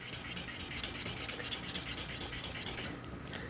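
A 1000 grit sandpaper sheet on a small sanding block is rubbed wet across a Corvette roof panel, a steady continuous rasping scrub, close-up with no talking.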